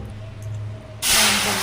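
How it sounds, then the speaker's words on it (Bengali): Bengali dal being tempered with dried red chilli and panch phoron in hot oil, a loud sudden sizzle bursting in partway through and continuing steadily after a quieter stretch of low kitchen hum. "ডালটাকে এবার সাঁতলে শুকনো লঙ্কা, পাঁচফোড়ন,"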